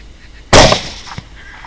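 A single sharp, loud 6.5 Grendel rifle shot, fired at a boar while hunting with 110-grain bullets, cracks once and then fades into a short outdoor decay, no voices.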